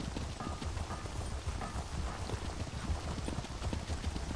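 A horse is ridden at a steady pace in The Elder Scrolls Online, its hooves thudding in a fast, continuous clip-clop close by, with no talk over it.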